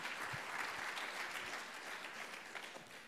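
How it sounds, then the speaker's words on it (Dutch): Applause from the audience at a livestreamed Korzybski Institute gathering, steady and moderately distant, a dense wash of many hands clapping for the full three seconds with no talk over it. "Dankjewel, Sebastien. Applaus."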